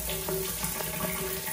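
Hotel shower running with strong water pressure, a steady, loud, hissing spray of water close by, with no talking.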